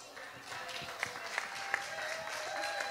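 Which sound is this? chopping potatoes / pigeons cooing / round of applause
round of applause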